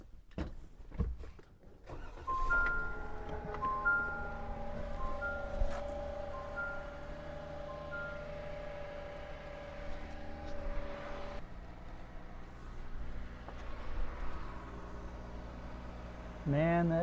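A van engine cranks and catches, then settles into a steady running drone with a tonal hum, close and continuous for most of the stretch; a brief voice is heard near the end.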